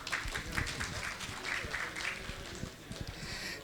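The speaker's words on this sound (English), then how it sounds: "Please give them a round of applause" Conference audience at PGConf India applauds presenters after a database security talk is introduced, a moderate, fairly steady patter of many hands clapping across the room, somewhat distant, with a voice briefly audible over it.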